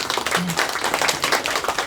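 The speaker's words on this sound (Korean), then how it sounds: "크게 박수 부탁드립니다" Applause at a community ceremony, a dense patter of many hands clapping steadily throughout, with a voice briefly audible underneath.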